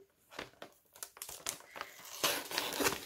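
Packaging paper for a scrapbooking mail delivery crinkles and tears as it is opened, a run of close, irregular crackling rustles building louder and denser toward the end.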